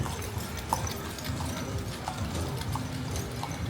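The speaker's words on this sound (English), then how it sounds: "Oh, here comes a horse taxi." A horse-drawn taxi's hooves clip-clop steadily along a street in Varadero, Cuba, mixed with low traffic rumble and city background noise.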